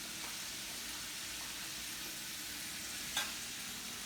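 Peppers and onions frying in a pan with a little sugar, cooking down beside fried whiting; a soft, steady sizzle runs throughout, with one brief tap near the end and no talk.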